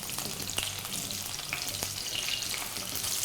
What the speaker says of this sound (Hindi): आलू को हमें थोड़ा गोल्डन होने तक कुक करना है